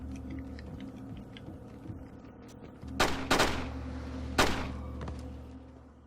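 Over a low humming ambience in the video game Splinter Cell, at the Chinese Embassy, a few sharp gunshots crack out in a quick cluster, then one more shot follows a moment later.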